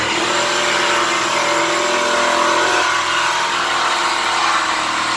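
A New York City taxi cab, a town car, revs hard and steadily for several seconds, its engine loud and close with a broad roar that holds throughout, no voices over it.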